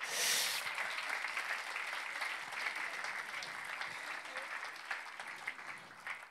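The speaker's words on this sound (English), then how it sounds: "Give him a round of applause" A church congregation applauds during a Sunday service for a newborn baby being presented, with sustained, even clapping from many hands that continues for several seconds, slightly louder at the start.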